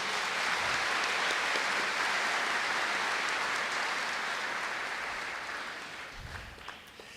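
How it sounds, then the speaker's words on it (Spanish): Loud congregational applause during a church sermon, a thick sustained roar of clapping that fades toward the end, with a low thump near the close. "Dale un aplauso al Señor por eso."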